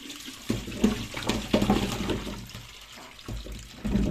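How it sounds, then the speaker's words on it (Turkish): Soaking water from green walnuts for jam is poured out of a container, a close, sloshing splash that comes in a few surges with short gaps between them. "şu an birinci suyunu dökeceğiz ve ikinci suyunu ekleyeceğiz"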